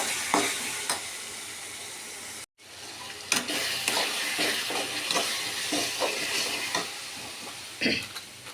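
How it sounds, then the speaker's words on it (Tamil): Tomatoes sauté in a pan under a busy sizzle, with repeated scraping stirs and a short break in the sound partway through, close and without talk. "தக்காளி நல்லா வதங்கிடுச்சு"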